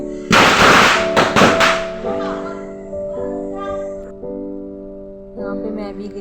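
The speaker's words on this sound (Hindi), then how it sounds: "कुछ पटाखे, मुर्गा छाप कुछ पटाखे रह गए थे, उसके पापा फिर से कर रहे हैं लास्ट में" Murga Chhap firecrackers set off at Diwali: a loud burst of sharp cracks and pops, followed by a lingering ringing, whistling tone with a few fainter crackles later.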